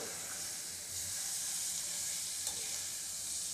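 Val bean pods with peanuts sizzle steadily in a pan while being stirred, a continuous close frying hiss with faint scraping, no voices.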